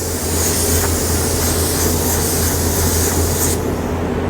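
Spray gun laying base coat paint onto a car during a refinishing job, a steady continuous hiss of atomized air and paint running unbroken for several seconds, close and loud, then cutting off near the end.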